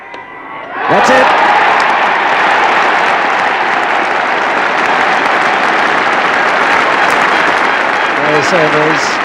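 A cricket crowd applauds Gary Sobers reaching his century in a Test match: loud, sustained clapping swells in and holds steady, with a commentator's voice briefly heard near the end.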